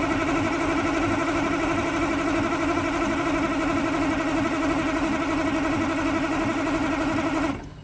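Cummins V8 diesel in a Ford truck cranking over without firing: a loud, steady, churning drone with no catch or rise, running unbroken for about seven and a half seconds before cutting off abruptly.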